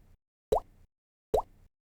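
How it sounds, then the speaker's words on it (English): Two separate mouth-made plops, layered into a jump takeoff sound effect for a game, each a short popping burst with a quick upward sweep, spaced apart and heard alone at moderate loudness. "This would be for the first part of the jump, right? The initial takeoff."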